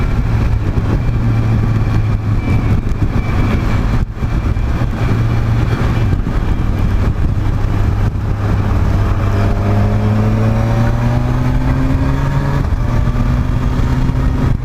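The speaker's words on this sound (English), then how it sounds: "This is definitely a bike you could ride around the countryside." A 2019 Kawasaki Versys 1000 motorcycle rides along with a loud, continuous engine drone, its pitch rising smoothly through the gears, while wind rushes steadily around the rider.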